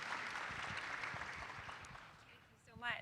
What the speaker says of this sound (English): if we could give everyone a round of applause